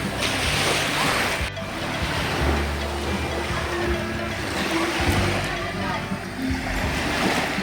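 Ocean waves wash onto a beach shore in a steady, continuous roar with gusty wind noise buffeting the microphone throughout.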